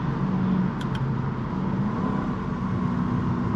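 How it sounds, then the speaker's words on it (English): Mercedes C55 AMG with Kleemann headers and valved mufflers cruises with the exhaust valves closed, giving a low, quiet, steady drone and road rumble from inside the car, with no pops. "So, I'm gonna go ahead and close the valves now, and you can hear how quiet it actually is."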